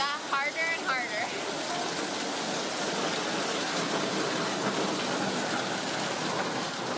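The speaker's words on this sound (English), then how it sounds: "We didn't miss the rain. It started off with a light drizzle, and then it just got harder and harder." Heavy rain pours down in Penang, Malaysia, a dense, constant hiss of water hitting surfaces throughout, with a faint voice briefly audible near the start.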